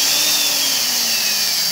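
Black & Decker 1/2-inch heavy-duty spade handle drill running under load, a steady high motor whine with a slowly falling pitch as it bogs down, loud and continuous with no talking.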